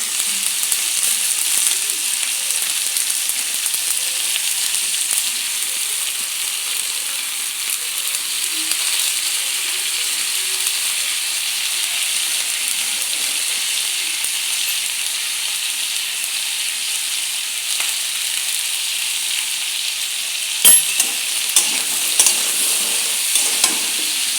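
Pieces of pointed gourd (potol) fry steadily in hot oil with turmeric and salt, a continuous close sizzle with occasional stirring, and a few sharper clatters near the end.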